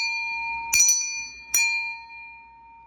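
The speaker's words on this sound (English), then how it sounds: "Let me go ahead and ring my bell." A small handbell rings twice, each strike a bright, clear chime about a second apart, close by and ringing out as it fades, with no talking.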